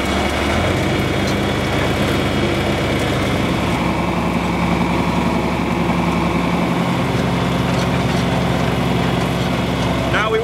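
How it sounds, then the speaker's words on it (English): John Deere 4020 tractor engine running steadily while cultivating corn, a loud continuous low rumble with a slight rise in pitch early on as it speeds up, close by and with no voices over it. "All right, speed up the engine a little bit."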